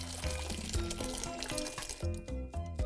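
Water runs into a tub in a continuous gurgling, splashing stream with a rising filling tone, close and moderately loud, with no talking.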